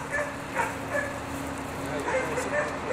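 Six-week-old Norwegian Elkhound puppies bark and yip in repeated short bursts over a steady noisy background, with a person talking nearby.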